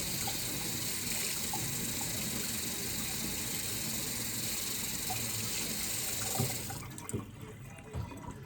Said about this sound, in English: I'm gonna use my mini skinny scraper and rinse it off real quick.